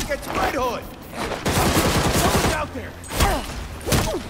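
Gunfire in Gotham Knights, bursts of rapid shots rattling in clusters, interleaved with short voiced exclamations from characters.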